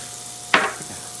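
A pat of butter hits a Power Smokeless Grill cooking filet mignons, giving one sudden, short hiss that fades within half a second against a quiet background.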